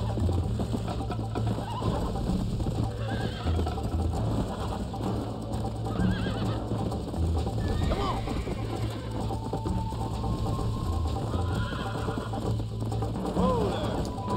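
A horse gallops and whinnies during a race in the video game Red Dead Redemption, with rapid hoofbeats, rattling tack, and neighs amid game sounds, while someone talks over much of it.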